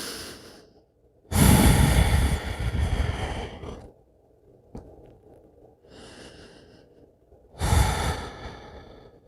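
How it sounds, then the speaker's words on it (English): Slow, deep breaths during a yoga shoulder-release pose, two long loud exhales with softer breathing between them, close to the microphone and with no talking. "just take as many breaths as you'd like here"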